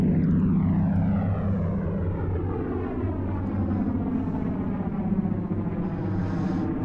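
The piston engines of a Vickers Wellington bomber drone at low power on landing approach, a steady, fairly loud propeller hum with a slowly falling pitch and no voices.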